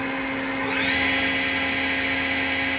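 Live tooling on a 2018 Hyundai Wia LV500LM CNC vertical lathe spins up with a steady high whine that rises in pitch about halfway in, then holds at a constant, close, even tone with no talking.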